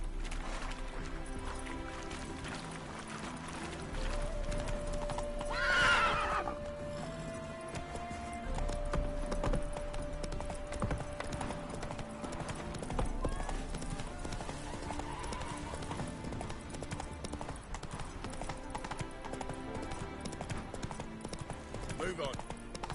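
Hooves clip-clop at a steady gallop as a horse races along in The Witcher 3: Wild Hunt, with one loud neigh early on and people talking over the running hoofbeats.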